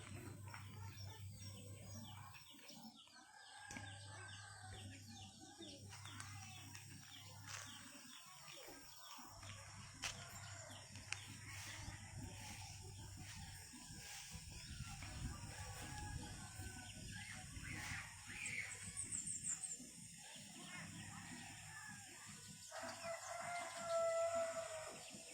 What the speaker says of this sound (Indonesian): bisa mendengar sendiri suara kicauan burung